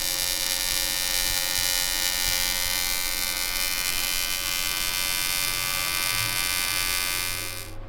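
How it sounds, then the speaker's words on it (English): A continuous electric welding hum, steady and fairly loud, runs throughout while someone works on a metal piece, with no talking, cutting off right at the end. "We wanted to do more welding, so look at us go."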